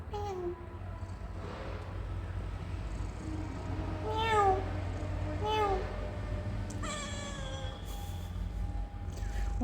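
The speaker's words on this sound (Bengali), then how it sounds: "ও তুমি ম্যাও ভাষায় কথা বলবে, মানুষের ভাষায় বলবে না?" A pet cat named Loadshedding meows several times, with drawn-out cries spaced a second or two apart, close by and fairly clear, while a person talks softly around them.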